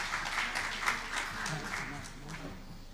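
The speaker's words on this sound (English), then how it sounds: "a hand of applause to him" Audience applause for presenter Ms. Nyalali at a technology and gender equity event, a moderate, steady patter of hands lasting a few seconds with faint murmuring voices underneath.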